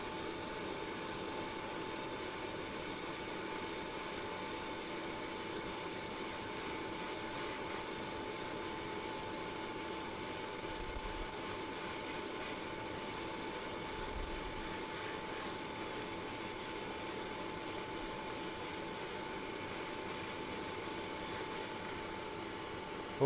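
An airbrush sprays a first coat of purple and electric blue paint as a steady, close hiss that runs without a break, with a faint electric hum beneath and no talking.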